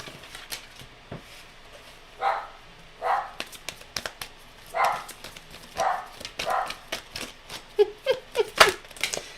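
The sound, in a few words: dogs barking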